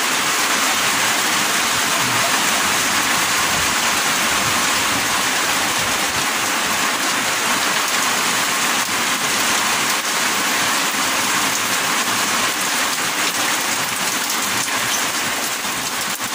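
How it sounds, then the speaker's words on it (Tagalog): Steady heavy rain pours outdoors, a loud continuous hiss of drops on surfaces that holds unbroken and even throughout with no voices. "May ulan pa."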